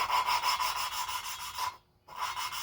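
Engine valves being lapped by hand at home, a steady gritty grinding rasp that repeats in quick strokes, stops briefly, then resumes, close and fairly quiet with no talking.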